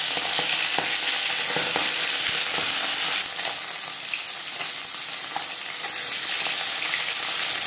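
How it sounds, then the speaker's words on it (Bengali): Fish sizzles steadily in refined oil in a wok, with a loud, continuous hiss and crackle that holds throughout with no talking. "সবার প্রথমে আমি মাছ ভেজে নেব। কড়াইতে দিয়ে দিয়েছি 4 চামচ রিফাইন্ড অয়েল।"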